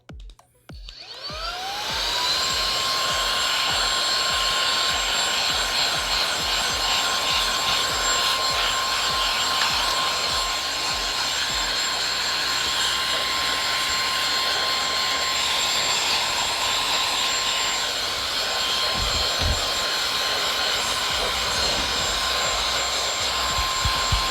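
An electric compressed-air replacement duster blows air at a cooling pad to clear dust from seams, a loud steady high-pitched whine that spins up quickly and holds evenly throughout with no voices.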